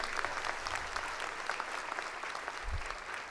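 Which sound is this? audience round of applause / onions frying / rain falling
audience round of applause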